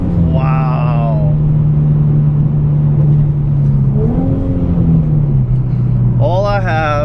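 A tuned car fitted with a Motordyne exhaust, cold air intake, dual filters and art pipes drones loudly, its engine pitch holding, dipping and then climbing as it accelerates, with bursts of rising revs and a voice speaking over it.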